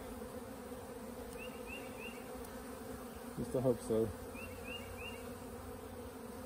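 A honeybee swarm buzzes steadily around a nuc hive outdoors, a soft continuous hum with louder bees briefly passing close, while a person speaks quietly.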